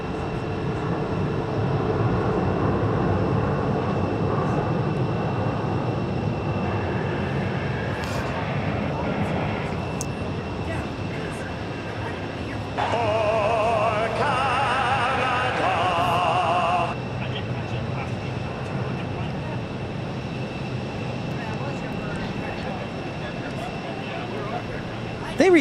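A WestJet airliner passes at Phoenix airport with a sustained jet engine rumble, swelling with a brief whining tone partway through before easing off. A person talks over the noise.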